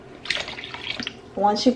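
Tap water running and pouring into a soup pot for chicken and wild rice soup, a splashing stream under a person talking, growing louder toward the end.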